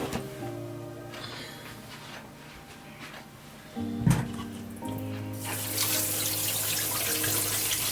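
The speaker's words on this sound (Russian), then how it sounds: "Заливаем холодной водой" Cold tap water runs into a pot in a home kitchen while traditional Russian food is prepared. The stream is steady and close, with a clatter partway through, then the flow grows louder and brighter as it fills.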